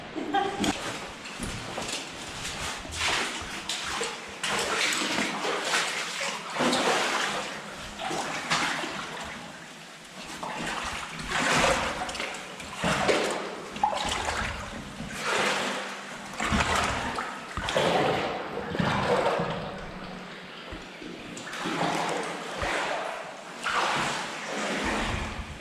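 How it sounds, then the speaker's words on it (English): Water pours and rushes steadily across a rock slide deep in a cave near Peak Cavern, a continuous broadband wash with voices heard intermittently over it. "I think we need to put a bit of water on it."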